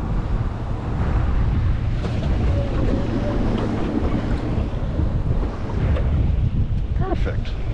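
Strong wind gusts across a boat out fishing for croaker, a loud steady rumble of wind buffeting the microphone with water sounds beneath and faint voices now and then.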